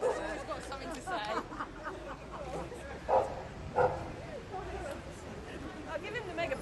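A dog gives short yips and bow-wow barks at an outdoor meeting, the bursts mixed into steady crowd chatter and people talking nearby, with two louder barks standing out midway.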